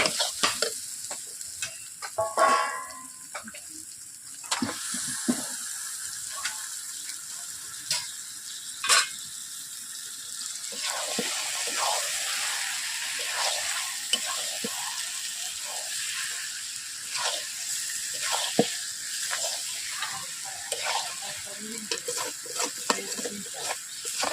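Chicken pieces added to hot oil and spice paste for a Bengali chicken and potato curry, sizzling steadily up close while a spatula stirs and scrapes the pan in repeated knocks and clatters.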